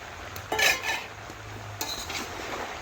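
A metal spoon scrapes and clinks against a pan while stirring fried vegetables with pumpkin, in a few irregular bursts over a faint sizzle, with no talking.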